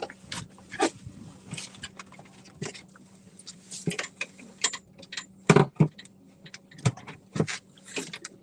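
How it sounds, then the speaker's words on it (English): A dog on a cold-front fishing trip in Texas, with scattered sharp clicks and short bursts like licking or paws on a boat deck over a low steady hum, fairly close and without talk. "The dog is always happy when he gets to fish."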